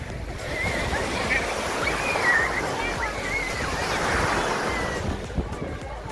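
Ocean waves breaking on a beach at Bombinhas, Santa Catarina, a continuous loud wash of surf that swells and recedes, with voices faintly underneath.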